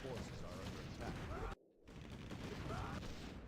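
Mortar fire in a strategy game tournament match, a dense barrage of booming impacts and crackling gunfire that runs continuously, cuts out briefly midway, then resumes just as loud.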